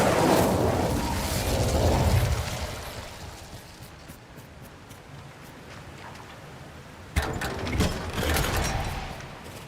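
Incendio fire spell cast in the video game Hogwarts Legacy: a rushing burst of flame at the start, then a quieter stretch, followed by a second sharp fiery whoosh partway through.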